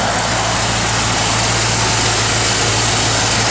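A 1957 Chevrolet 210 Wagon's engine runs steadily up close, a loud, even idle with a constant low hum and no talking.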